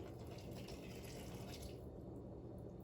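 Very hot water poured from a glass Pyrex into a bowl for homemade play-dough, a faint, short splashing pour that stops partway through and leaves a quiet room.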